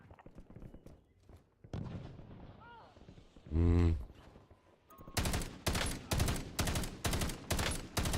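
Gunfire in the Black Ops 7 video game: a burst of rapid, loud automatic shots in the final seconds, preceded by quieter in-game effects and a booming blast, with a voice speaking early on.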